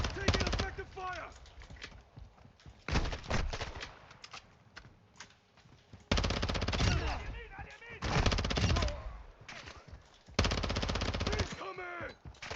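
Bursts of rapid automatic gunfire and single shots from a battle in the video game Call of Duty Warzone 2.0 DMZ, loud and repeated, with quieter gaps between the volleys.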